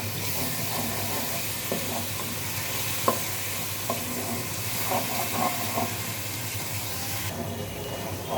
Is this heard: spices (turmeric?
yes